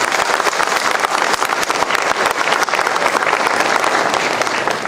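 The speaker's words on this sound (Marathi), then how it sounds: "एकदा पवार साहेबांसाठी जोरदार सगळ्यांनी टाळ्या वाजवतात." Audience of students at an outdoor job fair applauding for Pawar saheb, a continuous, loud burst of crowd clapping lasting several seconds.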